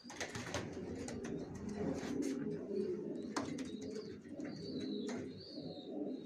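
A pair of adult racer pigeons coo softly and repeatedly close by, with a few sharp chirps and clicks over low background hum.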